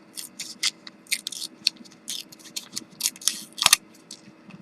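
Paper being torn by hand for a Wild West themed artist trading card, a series of short crisp rips and crinkles in irregular bursts, close and fairly quiet, with no talking.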